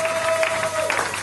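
A church congregation applauds during a French-language service, a steady wash of clapping from many hands with a thin sustained tone running underneath.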